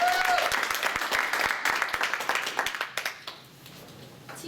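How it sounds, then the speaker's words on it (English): An audience claps for a student giving a soap-making demonstration speech: dense applause at first, thinning into scattered individual claps that trail off into a quiet room. "Everybody, let's clap for Betty."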